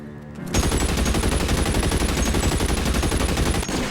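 Sustained burst of automatic gunfire from the L.A. Noire video game, a dense rapid stream of loud shots starting abruptly and rattling on without pause for several seconds.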